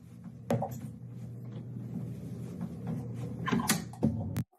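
A closet door swings open on its own in a quiet room, giving a couple of soft wooden creaks and knocks over a low background hum, ending in a sharper bump.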